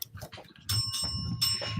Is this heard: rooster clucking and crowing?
no